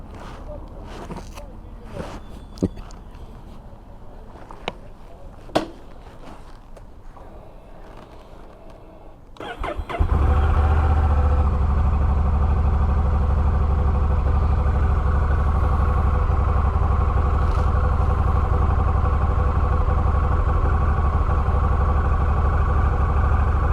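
A Honda Rebel 1100 DCT motorcycle engine starts after some quiet handling noises and settles into a steady, loud idle close by that continues without change.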